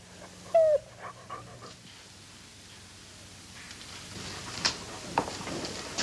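A dog gives a short high whimper followed by soft panting, rustling and small yelps in a quiet indoor show setting, close and faint with no talk.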